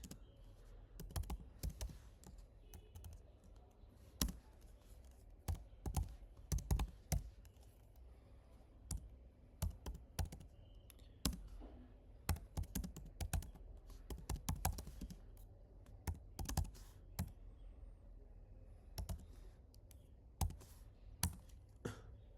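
Someone types a command on a computer keyboard in a terminal, with quiet, irregular clusters of key clicks and taps that come close together and pause briefly over a long, hushed stretch.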